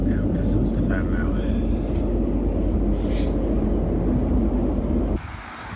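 Steady low rumble of a moving train carriage in Switzerland, heading to St Stefan, a constant loud drone with faint voices murmuring in the background, dropping off sharply near the end.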